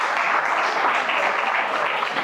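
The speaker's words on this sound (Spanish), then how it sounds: "Un aplauso para nuestros bebés." A church congregation applauding for the babies, a dense, steady wash of clapping from a crowd indoors, continuous and even for a couple of seconds.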